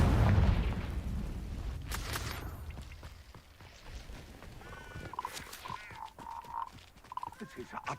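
A Confringo blasting curse goes off in the Hogwarts Legacy game, a loud low boom in the opening second that fades over the next few seconds, followed by scattered clicks and tonal game effects.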